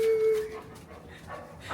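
A pet dog at home gives a short high whine followed by a few soft yips and whimpers, close by and fairly quiet, with no talking over it.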